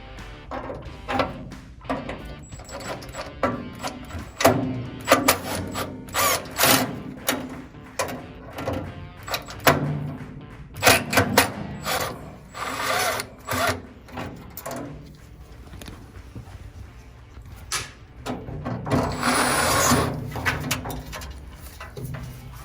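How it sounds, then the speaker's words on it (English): Screws being worked out of a Traeger pellet grill's thermocouple mount, with repeated close metallic clicks, scrapes and ratcheting taps in irregular bursts, busier near the end. "remove the 2 screws on your thermocoupler, which is where I'm at right now"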